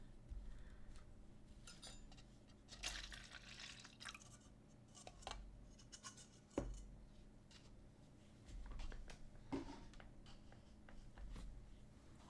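Rinse water for painting a dragon miniature is being changed: faint trickles and drips of water with small clinks of a cup or jar against a hard surface. The sounds are quiet and scattered, and no one speaks.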